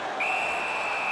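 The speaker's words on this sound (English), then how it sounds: "Holds on and gets that whistle" A referee's whistle in the NHL 19 ice hockey video game, a single sustained shrill tone cutting through steady arena crowd noise, held for about a second.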